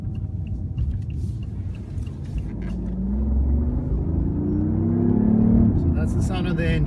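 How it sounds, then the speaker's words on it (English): A BMW i8 sports car engine rumbles low and steady while driving, its pitch rising gradually as it accelerates, with a brief whine of a gear shift toward the end. "So that's the sound of the engine."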